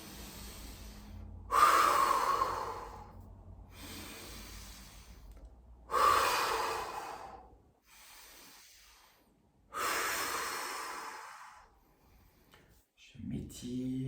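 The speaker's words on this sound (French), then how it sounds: "Je prends 3 profondes respirations." Three slow, deep breaths taken during a guided sophrology relaxation session, each a long audible inhale-exhale swell separated by quiet pauses, close to the microphone.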